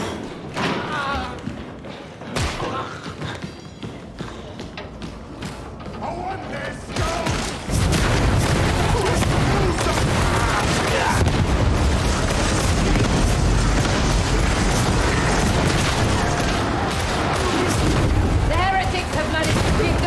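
Explosions from a grenade in the game Warhammer 40k Darktide: scattered heavy thuds and booms at first, then a dense, loud, continuous barrage of blasts and combat noise, with a voice heard over it.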